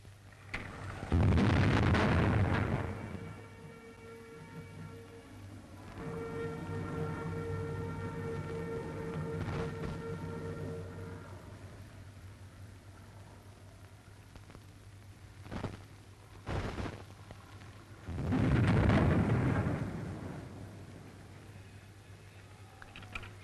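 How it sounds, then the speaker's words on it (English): A ceremonial cannon shot in Paris announcing eleven o'clock, two big booming blasts well apart with a low rumble and crowd murmur between them, no speech. "A cannon shot announced the hour of 11 and a minute of silence."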